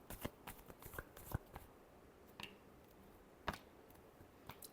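Tarot cards are shuffled in quick, faint riffling bursts with crisp clicks and pauses between, close and quiet with no talking.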